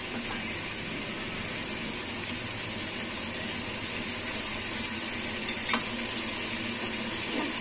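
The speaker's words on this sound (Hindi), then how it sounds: "चिकन को ऑयल और प्याज में फ्राई करूंगी मैं 3 से 4 मिनट" Chicken fries in oil with onions over a medium flame, a steady close sizzle with a few sharp pops and stirring clinks near the end.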